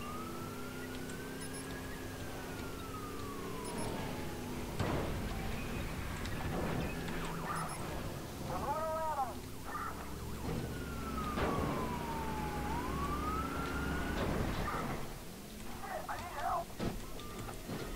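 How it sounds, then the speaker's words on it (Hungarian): A police car siren in a Watch Dogs video game chase wails in long rising and falling sweeps over engine rumble, with crashes, bursts of other game effects and someone talking over it. "Csak egy rendőrautó üldöz."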